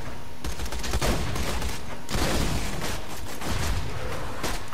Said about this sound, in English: Yeah, I like this shotgun.